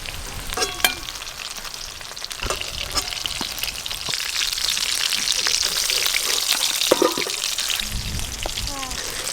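Stuffed pointed gourds (potol) fry in oil in a wok with a steady, crackling sizzle that runs throughout, broken by a few sharp clinks and scraping stirs.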